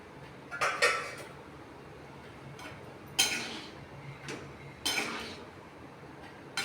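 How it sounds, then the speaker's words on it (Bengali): A metal lid comes off a cooking pot with several light clanks and clinks spaced a few seconds apart, quiet and close, over the faint bubbling of boiling food. "এখন আমি ঢাকাটা খুলে দিলাম।"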